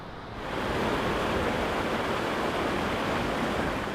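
A fast-moving river rushes in a constant, loud broadband roar that rises within the first half second and then holds steady, with no other sounds.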